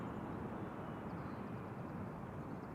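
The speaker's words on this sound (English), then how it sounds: "KLM Embraer 175, arriving from Cork in Ireland." A KLM Embraer 175 arriving at Amsterdam Schiphol Airport produces a faint, steady distant jet rumble with a broad whooshing roar and no distinct changes.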